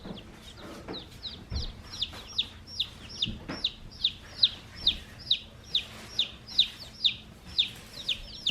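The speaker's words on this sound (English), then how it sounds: "This is how our chickens, our little baby chicks, have arrived, you guys, in this box." Baby chicks in a shipping box chirp in a rapid, regular series of high peeps, close and clear over a quiet background, with a couple of soft bumps.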